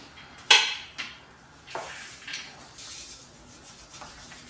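Boiled, peeled potatoes are mashed in a kitchen for patties, with a few clanking utensil knocks against a pot followed by soft rubbing and squishing sounds at close range.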